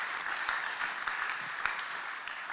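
A church congregation applauds and cheers in praise, a dense, steady wash of clapping that fills the whole stretch with scattered louder claps and no clear speech.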